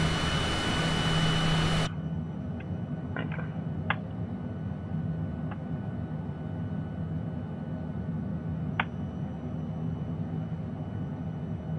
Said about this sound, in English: I actually remember how to turn the engines off.